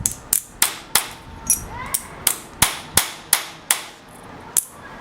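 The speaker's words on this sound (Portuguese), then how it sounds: "Ir rotando à medida que se martela." Sharp metallic hammer strikes ring out one after another as a metal arrowhead is flattened, about a dozen blows in a steady rhythm, close and loud with brief decays between.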